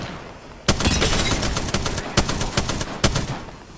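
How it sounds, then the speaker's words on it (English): Rapid bursts of automatic gunfire from the Apex Legends video game crackle loud and close, in several quick volleys separated by brief pauses, with no talking. "The hell are y'all shooting at?"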